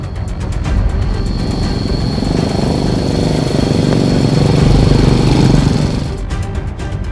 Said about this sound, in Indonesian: Untuk mencapai Dusun Cisaladah, kami terpaksa mengitari area perbukitan dengan motor.